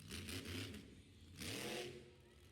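A monster truck engine revs in two bursts separated by a brief dip, loud and close, with no voices.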